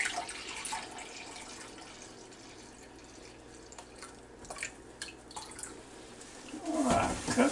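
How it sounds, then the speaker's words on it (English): Apple cider vinegar poured into a measuring cup in a home kitchen, a thin trickling, splashing stream close by, swelling into a fuller, louder pour near the end. "I'm going to put a cup and a half in this measuring cup."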